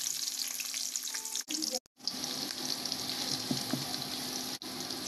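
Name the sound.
onions frying in a wok for khichuri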